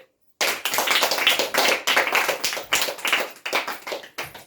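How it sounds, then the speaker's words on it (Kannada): A group applauds winners at a casual gathering, steady hand clapping starting abruptly after a brief silence and continuing close and loud in uneven bursts. "ಅವ್ರಿಗೆ ಎಲ್ರು ಚಪ್ಪಾಳೆ ಹಾಕ್ರಿ"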